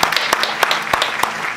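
Children at an online Sunday school session clap their hands in a quick, fairly regular rhythm, loud and close, with a few voices audible underneath.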